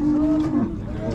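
A young bull calf under a year old at a cattle market in Merke, Zhambyl region, gives one loud, close, drawn-out moo that bends in pitch, with no voices over it.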